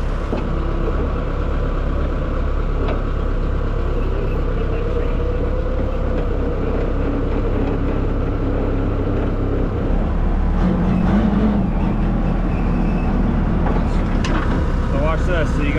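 An M4K military forklift engine runs steadily as it is driven, producing a loud, continuous low rumble throughout, with people talking over it.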